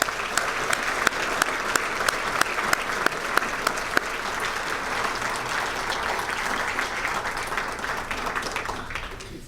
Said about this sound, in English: can we get a big round of applause for all these guys?